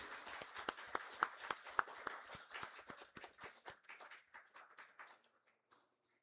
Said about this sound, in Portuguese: eu gostaria que oferecer uma salva de palmas para eles pelo esforço, por ser campeões